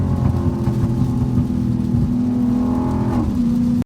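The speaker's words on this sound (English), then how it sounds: "Y'all hear them pops." Dodge Hellcat with a supercharged engine cruising on a wet road, its exhaust giving a loud, steady droning note that shifts in pitch near the end, with no clear distinct pops standing out.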